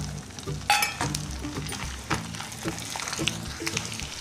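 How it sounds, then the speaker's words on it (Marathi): Bombil fish fry in mustard oil, a moderate sizzling hiss broken by light clinks of a utensil against the pan, close and without talking. "इथे मी राईचं तेल घेतले, तेलात तळून घेणार आहे आपण"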